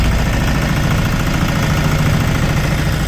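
The gravity-fed, belt-driven engine of a homemade motor sailor boat runs loudly at a steady idle, a continuous low rumble close by with no talking.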